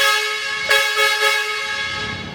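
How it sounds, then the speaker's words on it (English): A loud, sustained train horn fitted to a pickup truck blares with rich stacked tones, swelling briefly in the middle before holding steady, close and dominant. "So now Dad has his train horn back"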